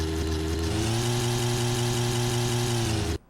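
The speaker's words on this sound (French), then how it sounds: "on va démarrer cette petite moto. Démarrer le moteur." A small motorcycle engine in a motorcycle mechanic simulator game runs steadily with a droning mid-pitched hum, its tone rising slightly as it settles, then cuts off abruptly just before the end.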